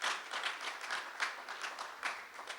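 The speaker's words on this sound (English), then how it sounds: "Give him a round of applause for being there with us." Applause from an audience gathered at a community unity event, a dense patter of many hands clapping at moderate level, steady throughout with slight swells and no voices over it.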